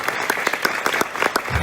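A church congregation claps at a sermon in Faisalabad. The applause is dense and steady and fills the room for a short burst, with a few sharper claps standing out.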